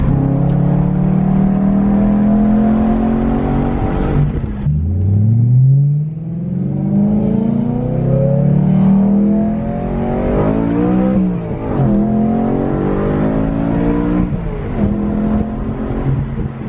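A BMW E92 M3 with a cheap aftermarket exhaust revs hard and downshifts, loud and close, its engine note climbing and dropping in repeated sweeps with a deep rumble underneath.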